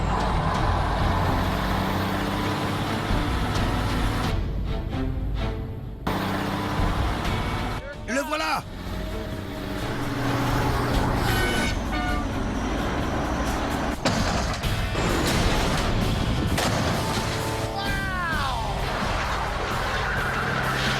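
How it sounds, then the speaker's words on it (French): A truck charges up to 80 km/h in a crash test and slams into a barrier, its engine roaring loudly and continuously throughout with a sharp impact crunch midway, while people talk over the noise. "Tel un morse en colère, le camion se lance à l'assaut et atteint les 80 km/h du film."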